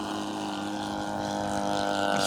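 Engine of a large 77-inch-span RC model RV-8 airplane in flight, a steady droning hum with strong harmonic tones holding level throughout, with slight wind noise and no talking.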